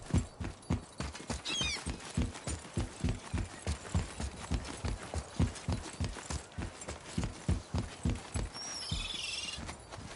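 Horse hooves clip-clop steadily in a video game, a loud, regular galloping rhythm of thuds, with a brief chirp near the start and a swell of noise at the end.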